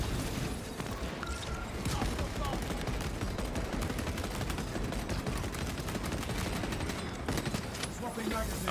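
Heavy bolt rifle fire in Warhammer 40,000: Space Marine 2, sustained rapid bursts of loud, punchy gunfire mixed with other weapons and explosions in a chaotic battle, with voices talking over it.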